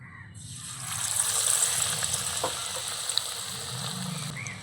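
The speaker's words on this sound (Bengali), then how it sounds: "এইভাবে একটু ঝাড়িয়ে দেব ঝাড়িয়ে গরম তেলের মধ্যে দিয়ে দেব" Gram-flour battered snacks hit hot oil and sizzle with a steady, bright hiss that swells and holds, close and fairly loud, with no talking.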